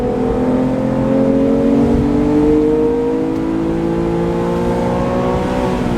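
A Porsche 911 GT3 engine heard from inside the car on a ride, revving loud and close with rising tonal pitch sweeps as it accelerates through the gears, steady and without talk.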